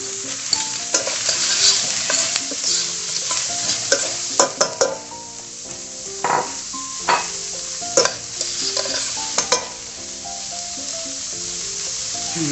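Shallots and wild mushrooms sauté noisily in a hot pan for a rabbit dish, with a constant close sizzle and repeated clinks and scrapes of a utensil stirring against the pan, with no voices.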